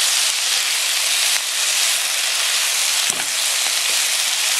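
Yakisoba noodles with freshly poured sauce sizzle and hiss steadily in a hot pan while being stirred, a loud, dense, continuous frying sound with no talking.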